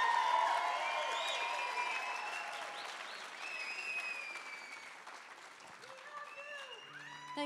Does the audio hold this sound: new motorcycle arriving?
no